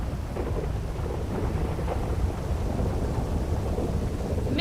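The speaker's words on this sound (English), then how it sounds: "so we're turning on the rain" Steady heavy rain with continuous low rumbling thunder in the GTA roleplay game world, a dense, even wash of sound with no talk.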